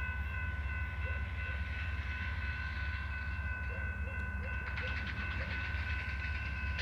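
A BNSF freight train, locomotive 9069, rumbles past in a constant heavy drone with faint rhythmic clacking of the cars, steady and fairly distant throughout.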